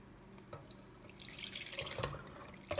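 Soaked grains and water are poured into a strainer set over a bowl while making tabbouleh. A splashing, trickling wash of water builds and runs steadily for a couple of seconds, close and moderately loud, with no speech.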